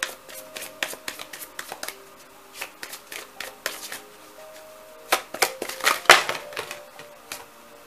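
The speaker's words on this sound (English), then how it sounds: "So let's get some more cards." Tarot cards shuffled and drawn at close range, a steady run of crisp riffling flicks and taps with louder slapping bursts toward the end, no voices.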